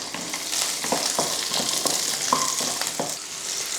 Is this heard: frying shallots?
yes